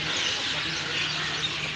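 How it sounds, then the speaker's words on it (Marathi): Many birds chirp outside Dhayreshwar Mahadev temple in Dhayari, Pune, blending into a steady, bright, continuous wash of twittering with no clear breaks. "पक्ष्यांचा आवाज खूप आहे ना इथं"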